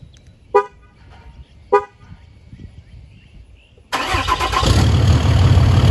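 A Ram 2500 truck's Cummins diesel engine cranks and fires up after a couple of short sharp sounds, then settles into a loud, steady, close rumble that fills the last two seconds.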